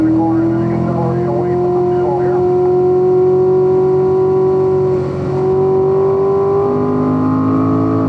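A manual Corvette Stingray accelerates out of a corner: a loud, steady engine drone with strong harmonic tones that climb gradually in pitch, then shift and rise again toward the end.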